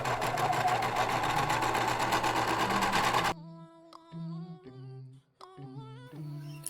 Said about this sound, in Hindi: सिलाई मशीन।